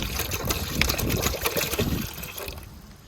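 Water boiling in a pot for a pandan sago dessert: a dense, close bubbling and rolling churn that eases off and quiets toward the end.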